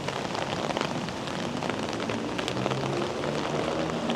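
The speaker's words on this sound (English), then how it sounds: "It's raining in Manila." Rain falling on a city street in Manila's BGC district in the evening, a dense steady hiss of drops with scattered patters, continuous and fairly close, no voices.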